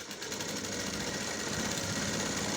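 A sewing machine runs steadily up close, stitching the lining of a blouse sleeve to the main piece, with a continuous whirring motor drone and no talking.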